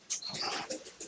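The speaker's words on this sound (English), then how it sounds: "Why are you barking?" A dog makes a brief burst of high, whiny vocalizing, a short yelp-like cry followed by softer whimpering tones, close by and with no talking.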